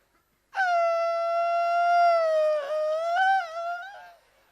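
A voice imitates a female dog howling in winter: one loud, sustained, wavering howl lasting about three and a half seconds, rising and bending in pitch before trailing off, alone against silence.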